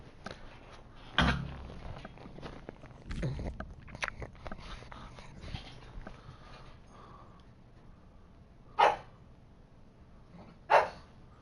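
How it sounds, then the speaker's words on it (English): A pet dog lets out a few sharp, isolated barks at a moderate distance over a faint, quiet indoor background, with long pauses between them and no howling. "If you guys hear any barking or howling, it's my dog."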